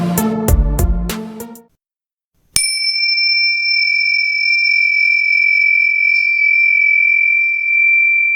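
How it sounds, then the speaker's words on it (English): Bells rung in a quick run of several bright, ringing strikes, then a brief silence and a long, steady high-pitched ring that holds evenly to the end. "I'm getting better at ringing the bells."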